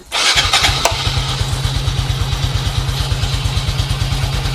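A Honda Wave 125 LED motorcycle starts and then runs with a steady, rapid low engine putter close by; no talking.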